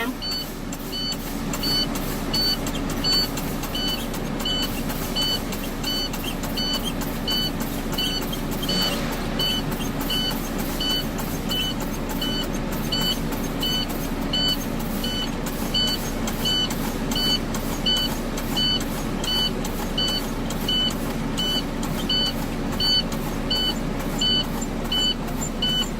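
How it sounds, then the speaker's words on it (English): A truck's low air-pressure warning alarm sounds as a steady, rapidly pulsing high beep that repeats throughout, over a constant engine idle rumble, with no talk. "There's my alarm."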